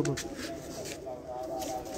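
Breeder pigeons on a rooftop cooing softly, a low, steady murmur of throaty coos close by.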